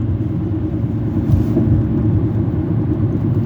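A low, steady rumble fills the inside of a car, a dense bass hum with road noise that holds without letup.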